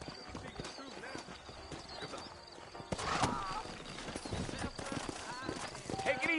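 Horse hooves clip-clopping on a town street in the Western video game Red Dead Redemption, a steady rhythmic trot of several horses under ongoing character dialogue, with a brief whinny.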